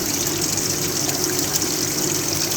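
Water rushing over a V-notch weir in a laboratory flow apparatus, a steady close gushing wash with a faint pump hum beneath.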